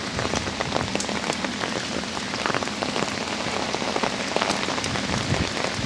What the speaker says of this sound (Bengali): হেঁটে গেলে বৃষ্টির মধ্য দিয়ে হেঁটে যেতে হচ্ছে